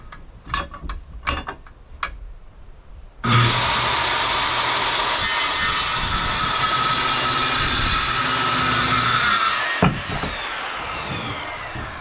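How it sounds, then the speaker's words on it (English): A power saw cuts through the last wooden framing board for a ladder, a few sharp knocks and taps first, then a loud steady whining buzz lasting about six seconds that cuts off abruptly, followed by faint clatter. "So I'm gonna get started on cutting this last board"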